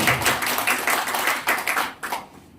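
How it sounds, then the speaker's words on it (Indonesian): A congregation at a Pentecostal church service claps in quick, rhythmic bursts for a couple of seconds, loud and close, before the applause thins out. "Tepuk tangan bagi Tuhan dong."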